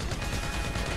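Gunfire in the video game GTA, a rapid, loud burst of continuous shots filling a brief moment, dense and unbroken with no talk.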